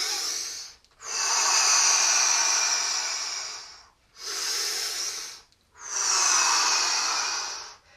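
Loud, deliberate breathing during a chair yoga class: four long, close breaths, each a drawn-out airy rush lasting one to two seconds, separated by short silent pauses, with no talking.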